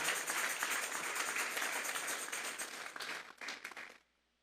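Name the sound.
congregation clapping as an offering to God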